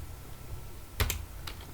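A few quick clicks of computer keyboard typing, two close keystrokes near the middle and another soon after, quiet over a faint room hiss.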